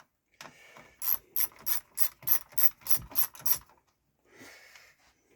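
A ratchet undoes an imperial bolt on a 31ci single-cylinder Briggs engine being race-prepped: about ten quick, even metallic clicks close by, then a softer scrape, with no talking.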